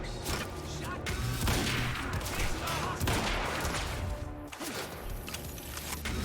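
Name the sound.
sniper gunfire in video game Quantum Break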